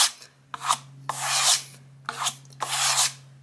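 A trowel scrapes skim-coat product across an interior wall in five rasping strokes, each a broad close scrape separated by short pauses, over a steady low electrical hum.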